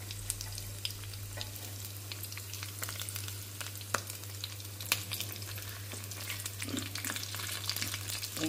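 Green chilies sizzling and frying in hot oil for a tempering, a steady crackling sizzle with occasional sharper pops and stirring clicks under a constant low hum, close and moderately loud throughout.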